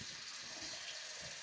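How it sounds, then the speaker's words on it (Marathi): Water is poured from a tap or vessel over washed mixed lentils to soak them for sandge, a soft steady gush at low level. "आता यामध्ये डाळी पूर्ण बुडतील इतपत पाणी घालायचं."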